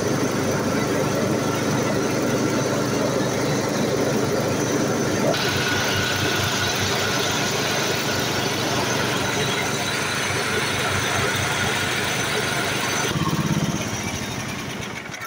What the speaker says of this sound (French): Tiens bien le ralenti, il accélère bien.